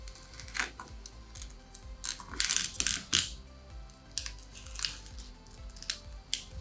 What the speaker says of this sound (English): We're gonna cut in between the plastic and the glass layer.